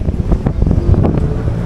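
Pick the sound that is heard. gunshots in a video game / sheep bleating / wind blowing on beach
wind blowing on beach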